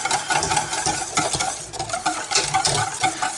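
A lemon curd mixture is stirred continuously in a saucepan over the heat for a lemon meringue tart. Busy, close scraping and swishing of the spoon comes in uneven strokes with a light simmering hiss.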